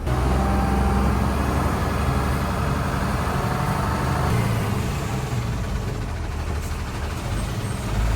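Heavy diesel rumble from a crane towing a broken-down truck on a Siliguri city street, a steady loud engine drone with traffic noise around it and no talk.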